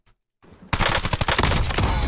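Unsuppressed gunfire in the Warzone video game: after a brief quiet lead-in, a loud, rapid burst of automatic shots fires in a sustained rattling volley lasting over a second.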